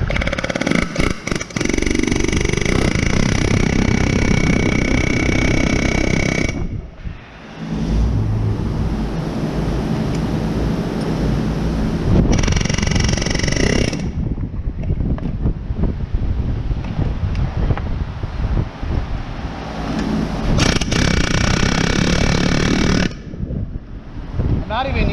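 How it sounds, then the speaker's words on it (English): A powered hammer drives a ball joint into a 2011 Journey using TTX parts. It makes a loud, harsh, sustained rattling buzz in three long bursts with short pauses between them. "Not even using the hammer at full power."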